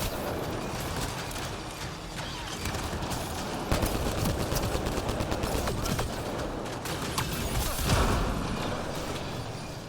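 Sustained rapid turret gunfire from Mass Effect Andromeda, a dense, continuous mechanical rattle of bursts that stays loud throughout, with sharper cracks and impacts punching through around the middle and near the end.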